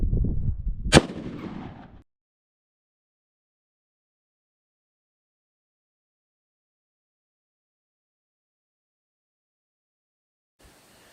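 A single rifle shot, a 55 grain full metal jacket round fired at a fiberglass panel, one sharp loud crack with a short booming tail, followed by near silence.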